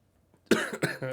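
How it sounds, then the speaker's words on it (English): Two or three sharp coughs in quick succession, close by, breaking a near-silent background. "Oh, I coughed."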